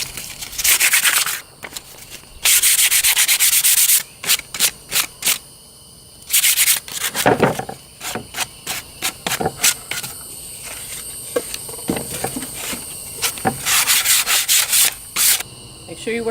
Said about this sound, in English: 220 grit sandpaper and sand the edges real lightly